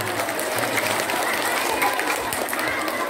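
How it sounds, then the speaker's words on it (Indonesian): Audience applause inside the Kowloon Islamic Center mosque, a steady broadband wash of clapping from a gathered congregation, fairly loud and continuous for the whole stretch with faint voices mixed in. "Tepuk tangan untuk saudara-saudara kita ini."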